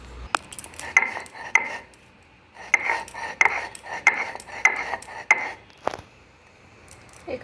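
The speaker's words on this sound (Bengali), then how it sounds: "এবার আমি এখান থেকে চিড়েটা ভালোভাবে একটু ভেজে নেব।" Flattened rice (chire) being fried and stirred in a wok, with repeated sharp metallic scrapes and clinks of a spatula in irregular bursts over a faint sizzle.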